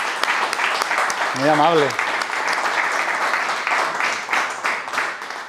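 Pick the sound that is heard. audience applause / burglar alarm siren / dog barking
audience applause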